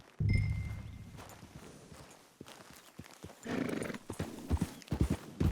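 Horse in Red Dead Redemption 2 whinnies loudly at the start, then its hooves clip-clop in a steady walking rhythm, with a brief snort and quiet background movement.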